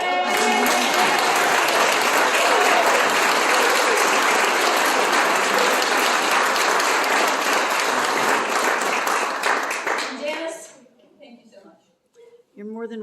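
Banquet audience applauding at an annual membership dinner, loud sustained clapping from a full room that runs for about ten seconds before thinning out to a few scattered claps and quiet.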